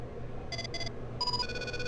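A phone ringing during the WWE SVR 2009 wrestling video game, with two short electronic ringtone bursts followed by a sustained pair of tones, faint over a steady low background hum.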